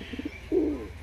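A soft coo from a female pigeon, a few short low notes followed by a longer rolling coo, heard close and fairly quiet.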